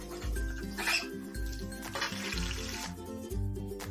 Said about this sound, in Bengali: এইভাবে আমি সবগুলো কচুরি ভেজে নেব।